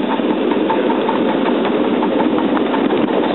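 A small model live-steam locomotive running steadily with a continuous, even chugging drone, close and loud, unchanging throughout.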